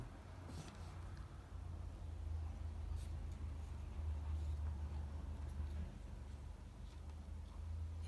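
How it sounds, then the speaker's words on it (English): Cars passing on a road outside, heard through open windows on a hot day as a steady low rumble of traffic that swells and fades over several seconds, fairly distant and continuous with no talking. "If you can hear cars going by,"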